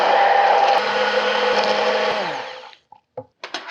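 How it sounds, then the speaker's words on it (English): An immersion blender whirs loudly as it emulsifies olive oil into a vegan salad dressing, a steady motor whine that winds down after about two and a half seconds, followed by a few short clunks and knocks. "get my trusty immersion blender over here and emulsify this"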